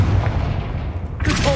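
A Confringo fire spell in the Hogwarts Legacy video game bursts with a sharp, loud explosive crack that follows a low rumbling stretch, closing in a bright, crackling blast.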